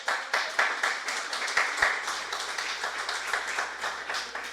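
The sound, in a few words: congregation applauding in church service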